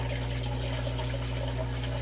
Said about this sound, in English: I'll probably change water, suck out half of it, fill it back up, suck out half of it